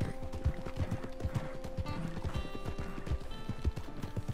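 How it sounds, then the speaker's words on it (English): A horse gallops at speed across open plains in Red Dead Redemption 2, its hooves beating a steady, close, quick clip-clop rhythm under a low game ambience. "look how fast this horse is"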